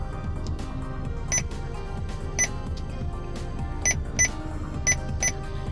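Short high electronic beeps from a Joying octa-core 9-inch navigation head unit fitted in a VW Eos, chirping about seven times at irregular intervals over a low rumbling background.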